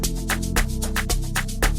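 Synth lead from an amapiano beat built in Caustic 3, short plucky notes repeating in a steady groove over punchy low drum hits, loud and upfront with no talking.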